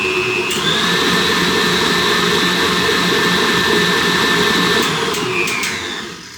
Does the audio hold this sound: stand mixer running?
yes